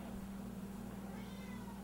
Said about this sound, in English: What are you crying about, Cat?